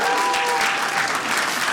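Brief, dense burst of audience applause from dog owners in a stand-up comedy crowd, loud and continuous throughout.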